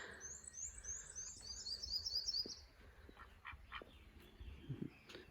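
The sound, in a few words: songbirds singing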